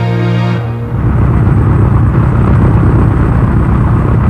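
A large C-53A marine helicopter towing a destroyer escort at sea gives a loud, steady rotor and engine roar after a brief tonal opening, continuous with no voices.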